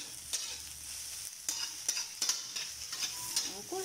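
Shredded cabbage sautéed in a hot pan for Filipino vegetable lumpia, a steady close sizzle broken by sharp scraping stirs of a spatula, repeated every fraction of a second.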